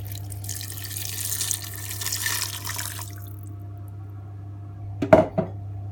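Water runs steadily from a tap into a cooking pot for a turkey and stock-cube broth, a continuous rushing pour over a low hum that ends with a few clinks of the pot.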